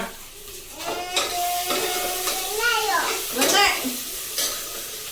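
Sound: onions sautéing in a pan

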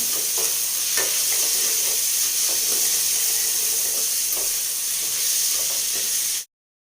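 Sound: cumin seeds roasting in hot oil with asafoetida

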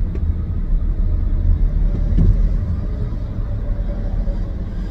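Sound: road traffic of cars and trucks

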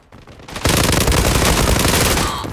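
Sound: gunfire in a video game

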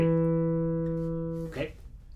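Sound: guitar bass notes of measures 10 to 12

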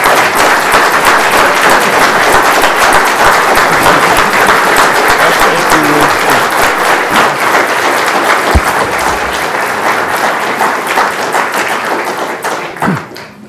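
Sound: audience standing applause at keynote

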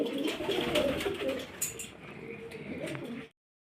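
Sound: pigeons cooing

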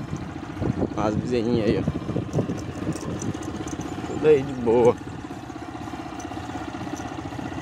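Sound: motorcycle ride around a farm

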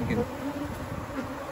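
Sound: honeybees buzzing on hive frames

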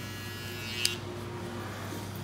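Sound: electric shaver shaving head behind the ear

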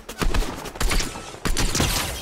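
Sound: gunfire in the video game Fortnite

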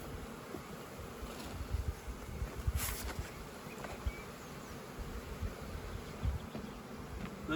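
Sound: honey bees buzzing during hive split

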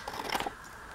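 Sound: cutting paper edge for envelope folio

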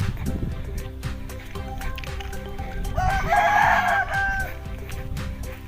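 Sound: rooster crowing and chickens clucking

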